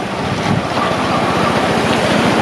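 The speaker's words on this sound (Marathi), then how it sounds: "भरपूर पाण्याचा स्त्राव आहे" Overflowing water from Ekruk Lake in Solapur rushes under a bridge, a loud, continuous roar of flowing water mixed with heavy wind buffeting the microphone.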